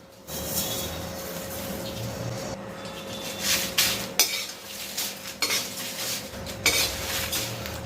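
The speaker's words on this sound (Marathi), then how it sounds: "हे सगळं आता आपल्याला परतून घ्यायचं आहे मिठावर परतलं तरी चालेल" Whole spices for goda masala are stir-roasted on salt in a dry pan without oil, giving steady scraping and clinking of a spatula against metal with occasional louder knocks, close and continuous.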